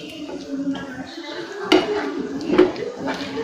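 A spoon stirring and scraping fish egg fry in a pan, with soft clinks of metal on the pan and two sharper knocks, close and moderately loud beneath a quiet hum.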